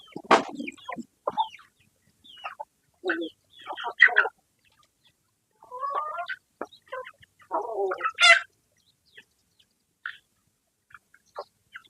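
Chickens clucking and calling in short, scattered bursts while being fed a mix of leaves and poultry feed, close and moderately loud, with pauses of quiet between calls and no talking.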